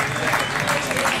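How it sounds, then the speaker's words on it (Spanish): A crowd at the II Cross Virgen de la Barda cross-country race in Fitero applauds runners crossing the finish, a dense, close burst of clapping with an announcer's voice mixed in. "un fuerte aplauso para ello"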